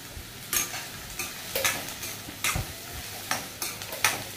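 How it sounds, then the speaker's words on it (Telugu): Thinly sliced onions fry in a pan for a tomato onion egg curry, with a continuous close sizzle and regular stirring scrapes every half second or so. "అందుకని ముందుగా ఆనియన్స్ని వేయించుకుంటున్నాను"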